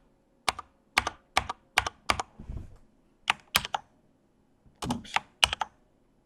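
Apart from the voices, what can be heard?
typing a password on a computer keyboard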